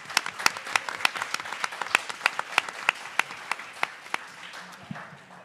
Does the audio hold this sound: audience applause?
yes